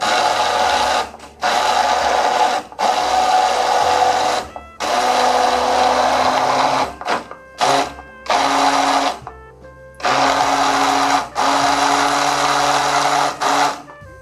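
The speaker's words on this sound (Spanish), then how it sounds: "le damos una mezcladita con nuestra mini pimer" A small hand blender mixes homemade alcohol gel in repeated loud bursts of whirring, each a few seconds long and separated by short pauses.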